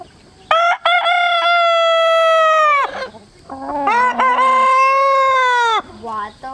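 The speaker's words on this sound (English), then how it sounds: "He's got a very mature sounding crow." A rooster crows twice out on a sheep pasture, each call a loud, close, drawn-out cock-a-doodle-doo with a mature, full tone, followed by a few softer clucks.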